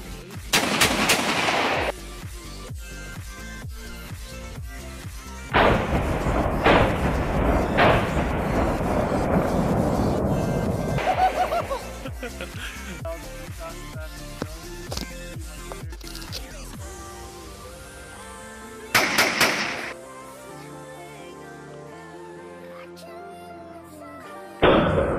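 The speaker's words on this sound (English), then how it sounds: "Three shots as fast as we can shoot it." Three rapid shots from a semi-automatic Stogram 3000 ring out loud and close, followed by a long echoing roll across open country, with later sharp reports and clanks.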